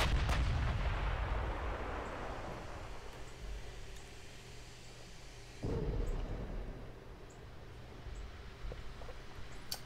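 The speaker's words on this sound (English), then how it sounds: "let's turn a bit to port and we can get our rear turrets going off" Heavy battleship gunfire from the rear turrets of an H Class ship in the naval video game Ultimate Admiral: Dreadnoughts, a deep booming blast opening the clip and another around the middle, each rumbling off over low background noise.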